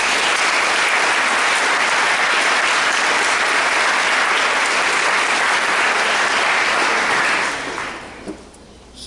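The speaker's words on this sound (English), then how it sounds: "Let's give him another round of applause." An audience applauds a speaker after a presentation, dense, loud and continuous clapping for about seven seconds before tapering off into quiet.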